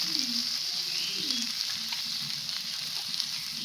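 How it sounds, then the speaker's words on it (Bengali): Fried onion and ground spice paste sizzle steadily in a pan while being cooked into a brinjal dish, a dense close hiss with soft scraping stirs and a low warbling tone near the start, with no talk. "তারপর দেখো পেঁয়াজটা লাল লাল করে ভেজে নেওয়ার পর বাটা মশলাটা দিয়ে দিলাম"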